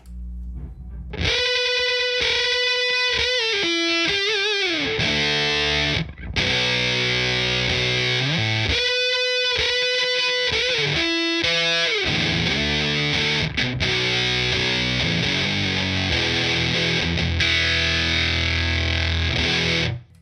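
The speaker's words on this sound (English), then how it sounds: "So start off again with the Big Muff, the Big Muff Pi" Electric guitar through a Big Muff Pi distortion pedal, thick fuzzy sustained chords and riffs played continuously and loudly, with brief pauses between phrases, no voices.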